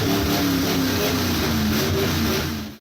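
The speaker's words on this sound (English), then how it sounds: "It had open headers on it because I hadn't done the full exhaust yet, so it sounded like a dirt track motor for a little bit." A carbureted Ford F-150 engine running on open headers with no full exhaust, a loud, rough, continuous drone that holds steady close by before dropping off at the very end.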